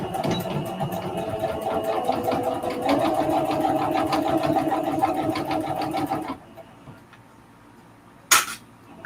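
A home sewing machine stitches around a mug rug in a fast, steady run of needle strokes that stops partway through, followed by quiet and a short sharp click.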